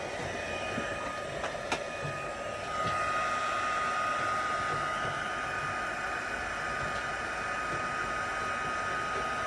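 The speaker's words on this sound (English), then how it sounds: "I will get my heat tool up and going" A heat tool for ink and embossing crafts runs with a steady, close airy whoosh and a constant motor whine, its pitch settling slightly higher a few seconds in, with no talking.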